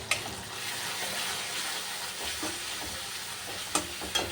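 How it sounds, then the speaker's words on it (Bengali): Masala spices with cumin powder, Kashmiri chilli, salt, turmeric, ground cashew, melon seeds, poppy seeds and sour yogurt frying in a pan for potato and pointed gourd curry with prawns, a steady soft sizzle with a few stirring clinks near the end. "এখন বন্ধুরা, মশলাটা কষানো হয়ে গেছে"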